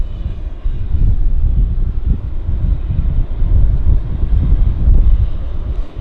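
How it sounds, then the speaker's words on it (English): An Air Canada Boeing 777 taxis at Vancouver Airport, its engines giving a loud, steady low rumble with wind buffeting the microphone. "we will have an Air Canada 777 taxing out"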